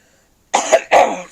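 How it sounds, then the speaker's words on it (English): A single harsh cough in two quick bursts, close and loud, after a moment of quiet. "Sorry about the cough."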